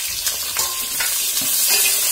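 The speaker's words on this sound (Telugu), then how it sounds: "ఇప్పుడు దీనిలో ఆనియన్ పచ్చిమిరపకాయ ముక్కలు వేసుకోవాలి। ఇవి బాగా బ్రౌన్ కావేసే వరకు వేయించుకోవాలి।" Onion and green chili pieces fry in masala for a mutton pulao, a steady broadband sizzle with light stirring scrapes, close and continuous with no talk.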